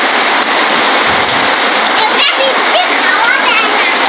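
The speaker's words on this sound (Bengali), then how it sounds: "গাইস আমাদের এখানে প্রচুর বৃষ্টি পড়তেছে" Heavy rain pours in a steady, dense hiss that splashes on surfaces nearby, while a voice talks over it.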